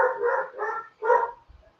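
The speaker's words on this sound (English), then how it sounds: "their dog is in the middle of my yard. And so my dog Jack is losing his mind" A dog in a yard barks at another dog that has wandered in, giving three loud, close woofs in quick succession followed by a short quiet shuffle.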